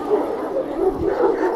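A dog yips and barks in short, excited bursts, fairly close, with a steady background murmur throughout.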